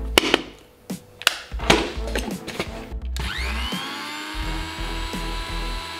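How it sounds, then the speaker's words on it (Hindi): A kitchen grinder pulverizes oats into fine powder, opening with a few knocks and short bursts before settling into a loud, steady high-pitched motor whine up close. "तो ओट्स का एकदम फाइन पाउडर हो चुका है"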